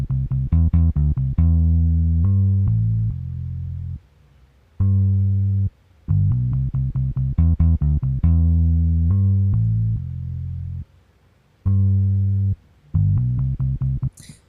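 Reggae bass line played on an Ibanez bass sound in FL Studio: a close, deep line of short, repeated plucked notes in a bouncing rhythm, broken by brief gaps of silence, with no talking.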